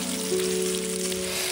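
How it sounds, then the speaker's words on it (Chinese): Sliced pork belly frying slowly in a pan over low heat, a soft continuous sizzle with a faint steady hum beneath it, short and even throughout without talk. "先把切好的五花肉下锅"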